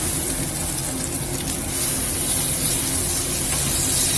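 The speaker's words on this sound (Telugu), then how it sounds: "నీళ్లు వడగొట్టేయాలండి." Water drains off soaked rice, a steady loud rushing spray that swells slightly partway through, close and continuous with no talk.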